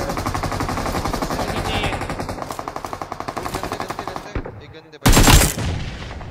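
Rapid automatic gunfire from the battle royale game BGMI/PUBG, with loud, dense rattling bursts for about four seconds, a brief pause, then a sharp, heavy blast.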